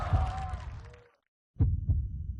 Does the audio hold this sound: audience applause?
no